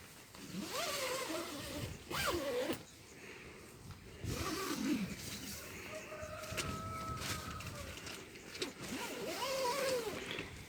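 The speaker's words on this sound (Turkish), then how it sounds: "Bu penceremiz bu şekilde kapanıyor. İki tarafında fermuar var." A zipper runs along the window of a Quechua Arpenaz Base M tent, closing it in several quick rasping pulls with pauses between, close by, while someone talks.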